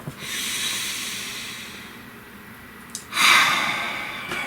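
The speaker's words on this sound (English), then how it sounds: "Breathe." A person draws one deep, breathy inhale and then lets out a sharper, louder rush of air, both close and clear, with no speech.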